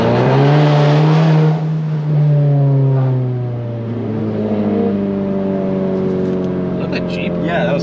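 A car engine revs hard and loud, then drops and drones unevenly, with some voices and tire noise near the end.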